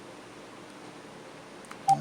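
Telephone keypad tones ring out as a short, faint burst of dialing near the end, over a steady low hiss on the line.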